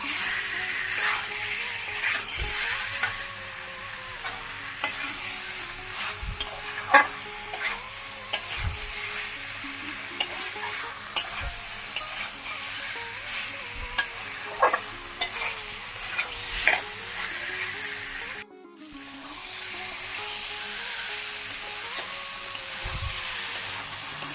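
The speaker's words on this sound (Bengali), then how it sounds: "এখন ফুলকপি আর ডিমটা দিয়ে দিচ্ছি, এখন ভালো করে কষিয়ে নিচ্ছি।" Cauliflower and egg curry with green peas stir-fried in a pan, a loud continuous sizzle under regular spatula scrapes and light knocks, briefly dipping near the end before resuming.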